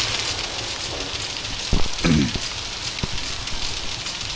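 Rain falls steadily in the Outlast horror video game, a constant hiss with a few brief thuds and bumps over it, fairly loud and with no talking.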